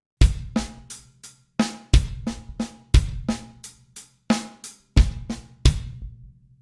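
A close drum kit plays a steady paradiddle groove, with sharp hits alternating between the hands and extra bass drum strokes woven in. The pattern repeats evenly, with no voices.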